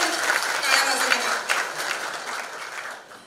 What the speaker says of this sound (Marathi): बराच वेळ आपण टाळ्या वाजवल्या.